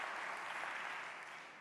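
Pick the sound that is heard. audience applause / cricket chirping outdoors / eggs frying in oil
audience applause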